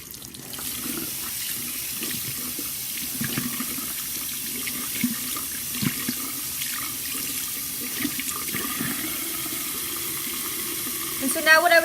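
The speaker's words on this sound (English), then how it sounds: "so I'm just going to turn on the water." Tap water runs steadily into a bathroom sink while a soapy makeup sponge is rinsed and squeezed under the stream, a constant splashing hiss that continues throughout.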